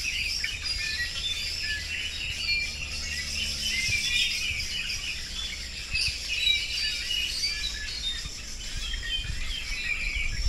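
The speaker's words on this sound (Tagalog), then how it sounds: "Ang daming ibon, no?" Many birds sing and chirp together from a tree on a roadside stop in Bicol, a dense, steady chorus of overlapping high calls with insect buzzing underneath and no talking.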